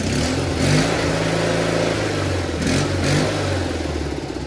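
An old John Deere 420 garden tractor engine, with new fuel lines, clean filters and a flushed tank, runs loud and close. It swells with a couple of revs over a steady rumbling idle.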